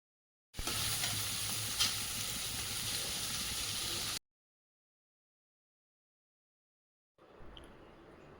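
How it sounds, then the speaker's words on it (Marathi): Onion, tomato and coriander frying in a pan, a loud, steady sizzle with stirring for a few seconds, then silence, then a fainter sizzle returning near the end. "आता आपण टोमॅटो टाकून घेणार आहोत आणि थोडीशी कोथिंबीर। हे व्यवस्थित फ्राय करून घ्यायचे आहेत।"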